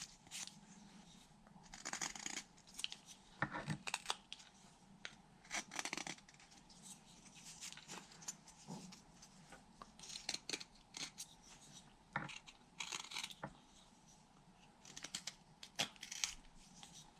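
A whittling knife shaves a wooden whale tail with repeated short, crisp scraping cuts in irregular bursts, close and quiet, over a low steady hum.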